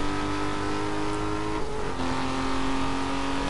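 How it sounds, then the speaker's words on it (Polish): A car engine in the racing game Need for Speed Most Wanted (2012) hums in a steady, loud, continuous drone, its tone rising slightly partway through, with no talking. "Grzejemy dalej, mruczy sam silnik."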